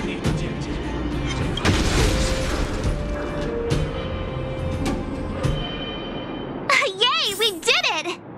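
Explosions triggered by an Automaton Spider in the video game Aetherium Wars: a dense run of booming blasts and mechanical clatter, loud and close, followed by a spoken voice.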